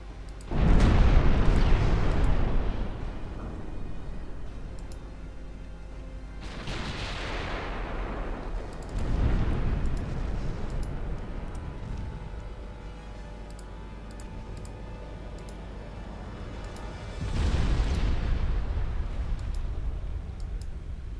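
Torpedo explosions in Ultimate Admiral Dreadnoughts, three heavy booming blasts spaced several seconds apart, each with a long rumbling decay under a low steady hum of the naval battle.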